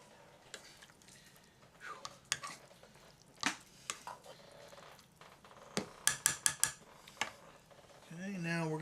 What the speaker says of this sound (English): Right on around, you just keep mixing it